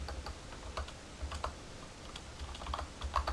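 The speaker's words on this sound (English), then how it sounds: "So we'll type hello world" Someone types on a computer keyboard in short bursts of light, quick key clicks, close and fairly quiet, with small pauses between groups of keystrokes.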